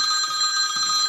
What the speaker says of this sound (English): sorry, got to take a phone